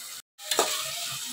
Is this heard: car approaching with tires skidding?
no